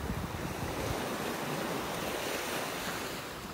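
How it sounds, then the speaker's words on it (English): Ocean surf washing onto a beach in North Naples, Florida, with a continuous roar of breaking waves and strong wind buffeting the microphone, loud and unbroken throughout, with no voices. "enjoy the sounds of the waves as we're walking along"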